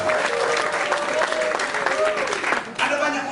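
Church congregation applause during a sermon, loud, dense and sustained clapping from a large crowd that dips briefly near the end before swelling again, with a voice faintly audible underneath.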